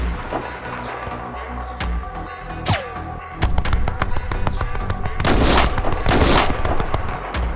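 A sniper rifle shot in an animated game-style battle lands among rumbling, booming gunfire and explosion sounds, loud and continuous, with several sharp cracks over a dense background.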